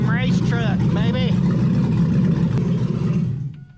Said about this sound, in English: Motor sounds healthy.